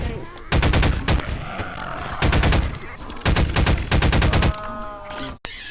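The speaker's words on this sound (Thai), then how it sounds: "ยิงหัวมันให้ยิงหัว" Several bursts of rapid gunfire at a zombie in the Garry's Mod horror map, loud and close, coming in repeated volleys with short gaps between them and a brief dip near the end.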